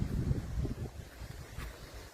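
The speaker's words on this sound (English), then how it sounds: "Although maybe not quite as windy as this." Gusty wind buffeting the microphone, low rumbling bursts that swell and ease over a couple of seconds, with no speech.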